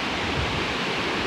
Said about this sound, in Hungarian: Most már jó nagy lett a sok esőzés miatt a patak.